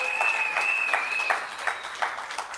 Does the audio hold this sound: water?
no